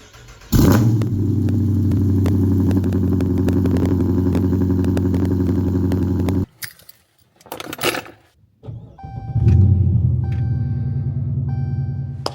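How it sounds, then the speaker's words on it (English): A V8 Dodge Charger Pursuit cold-starts with a sudden loud crank and roar that settles into a steady, deep high idle. It cuts off, a few clunks follow, then the engine starts and rumbles again. "I want to give you guys a cold start"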